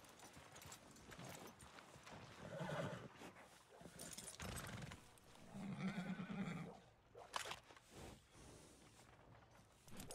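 Horse in the Red Dead Redemption 2 game neighing and whinnying twice amid steady hoof clip-clops on the ground, close and moderately loud, with no speech.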